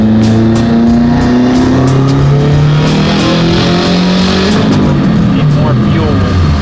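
An STI-swapped Subaru WRX running on ethanol revs hard on a dyno, the loud engine note climbing steadily in pitch in long pulls, close and continuous, with a voice faintly underneath.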